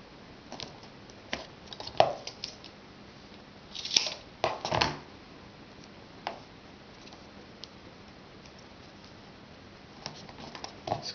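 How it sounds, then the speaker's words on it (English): Scissors snip through foam tape during card making, giving a few quiet, scattered crisp cuts with small clicks between them in an otherwise hushed room. "Y'all know how I like my foam tape. Cut just what I need, the size that I need."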